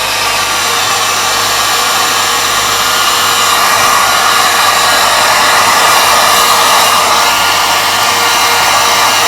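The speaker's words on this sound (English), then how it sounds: "using a hairdryer on low," A hair dryer on its low setting blows steadily with a constant whooshing hum, loud and close, with no talking over it, drying an alarm clock movement.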